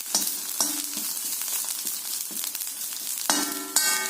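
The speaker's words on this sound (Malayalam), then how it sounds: "ഈ തേങ്ങ ചൊല്ലി വറക്കാം അതിൻ്റെ കൂടെ ഈ കറിവേപ്പിലയും ഇട്ട് വറക്കും" Grated coconut and curry leaves fry in a pan for chammanthi podi, giving a steady, close sizzle with occasional sharp crackles and stirring scrapes, no voices.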